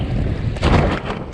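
Strong gusty wind buffets the microphone on a Hobie Wave catamaran under sail, a loud roaring rush that swells midway, with water noise beneath it.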